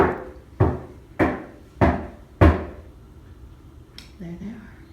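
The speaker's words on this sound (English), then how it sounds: "I was just hearing some knocks on my back door" Five loud, sharp knocks on a back door at a home, evenly spaced about half a second apart, each with a short boomy decay, followed by a faint brief voice.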